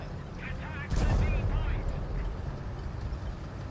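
A tank cannon fires in War Thunder, one loud booming blast a second in that rings out over a steady engine rumble, followed by faint background noise.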